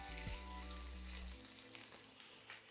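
Ground lamb frying in a hot pan, a close, steady sizzle with crackles that starts loud and then settles to a quieter, even hiss.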